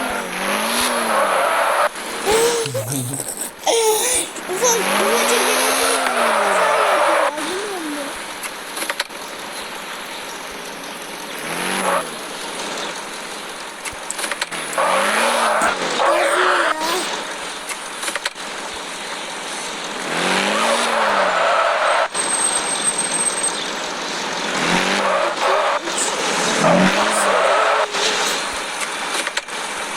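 A Tofaş Şahin drifting while parking, with a revving engine and repeated long tire squeals that rise and fall in waves, loud and close, while someone laughs and says a few words.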